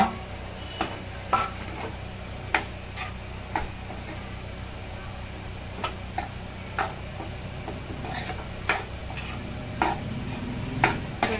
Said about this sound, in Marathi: बटाटा टाकून अशा प्रकारे चांगल्या प्रकारे परतवून घ्यायचंय